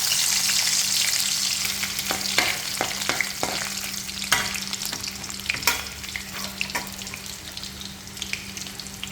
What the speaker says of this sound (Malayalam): ചൂടായ എണ്ണയിലേക്ക് നമുക്ക് ആദ്യമേ തേങ്ങാക്കൊത്ത് ചേർത്ത് കൊടുക്കാം.